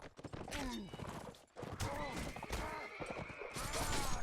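Heavy armored cavalry horses neighing and whinnying in a medieval battle video game, several overlapping loud calls amid hoofbeat clatter and battle noise, with players talking over the action.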